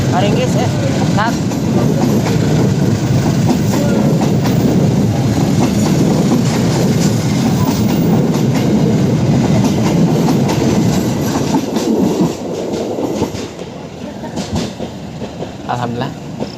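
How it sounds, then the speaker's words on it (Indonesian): A train rumbles past nearby with continuous loud clattering of wheels on rails, and the noise fades slightly toward the end. Nobody speaks. "ada kereta lewat"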